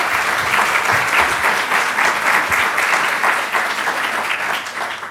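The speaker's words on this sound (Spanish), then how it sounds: "Le damos un nuevo aplauso al profesor" Audience applause for a professor at a constitutional forum, a dense steady clapping from a large crowd that stays loud throughout and fades slightly at the end.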